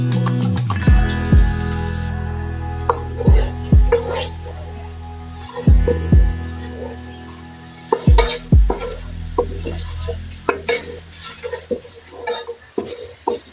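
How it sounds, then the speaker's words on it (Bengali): Spices added together and stir-fried in a pan for an Indian dish, with a steady sizzle under repeated sharp knocks and scrapes of a spoon against the metal, close and loud. "মশলাটা খুব সুন্দরভাবে কষিয়ে নেব।"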